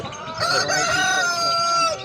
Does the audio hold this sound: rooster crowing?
yes